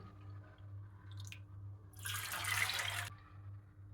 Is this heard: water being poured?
yes